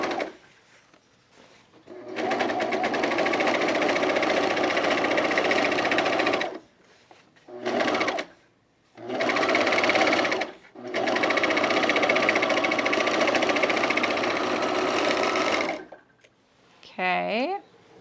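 A serger runs in long, loud steady bursts as it finishes the seams on denim jean shorts, stopping briefly between passes. It sounds close, and a short burst of speech comes at the end.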